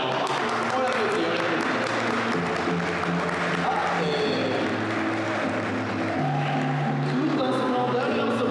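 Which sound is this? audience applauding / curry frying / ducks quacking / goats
audience applauding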